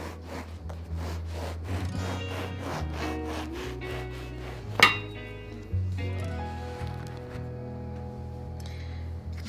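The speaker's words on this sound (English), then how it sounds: "You want to take one loaf of French bread, slice it down the center." A knife saws through a loaf of French bread with repeated back-and-forth strokes, close and fairly quiet, followed by a clink and a soft rustle.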